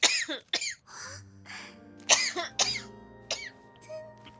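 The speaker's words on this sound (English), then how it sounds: "I'm sorry, I have to cough a lot" A person coughing repeatedly, a run of sharp, close coughs and throat-clearing bursts spread across a few seconds, loud and alone with no talk.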